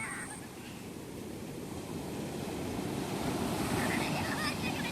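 Ocean waves wash steadily onto a beach at Ettikkulam in Kannur, Kerala, at dusk, a broad continuous rush mixed with gusty wind noise on the microphone, swelling slightly toward the end.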